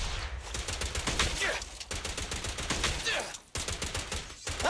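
Rapid bursts of gunfire from the video game Zenless Zone Zero, dense crackling volleys with brief gaps, mixed with game effects throughout.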